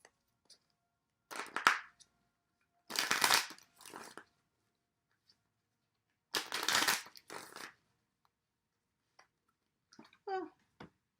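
Several bursts of tarot cards being riffled and shuffled come in short, crisp rustling spurts separated by silence, close to the microphone, with a brief voice near the end.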